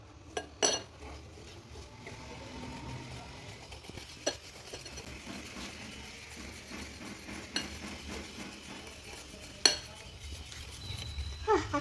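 A spoon stirs pancake batter with sugar in a bowl, scraping and swirling steadily with a few sharp clinks against the bowl's side scattered throughout; no one speaks.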